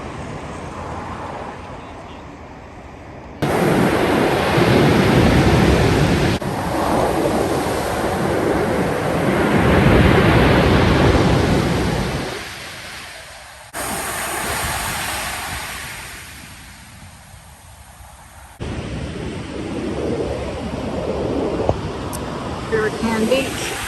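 Ocean waves breaking on a beach, a loud, continuous surf roar with gusting wind buffeting the microphone, shifting in level across the scene.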